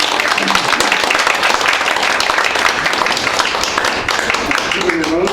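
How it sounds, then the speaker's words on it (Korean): Sustained applause from an audience at a Korean political campaign office opening, a dense steady patter of many hands clapping together with crowd noise throughout. "격려 박수 한번 보내주세요."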